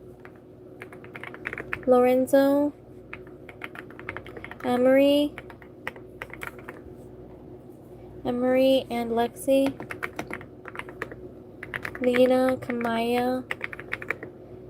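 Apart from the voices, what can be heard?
typing on a computer keyboard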